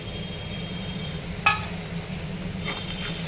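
Spices are stirred into fried capsicum and potato in a pan, giving a steady low sizzle with one sharp clink of a spoon against the pan midway and light scraping afterward.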